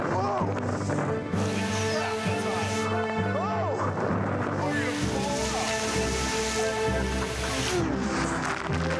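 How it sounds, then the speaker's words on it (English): A Stingray water coaster ride rushing and splashing through water, loud surging spray with heavy crashes, while riders shout and talk over the noise. "That is a water coaster."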